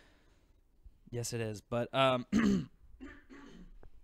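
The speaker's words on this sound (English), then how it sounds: "I'm hacking up, dude." A man on a drinking podcast clears his throat and coughs in a few harsh bursts, with brief speech before and after.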